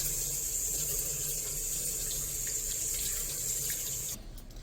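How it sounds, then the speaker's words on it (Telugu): Water pours steadily into the tank of a Euro Forbes vacuum cleaner, a loud, continuous rushing stream that runs without a break and then cuts off abruptly just before the end, with no talking. "ఇప్పుడు వాటర్ పోస్తా చూడండి ఎలా ఉంటుందో"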